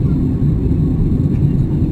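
A steady, deep engine drone fills the air, a constant low roar inside an IndiGo airplane cabin in flight above the clouds.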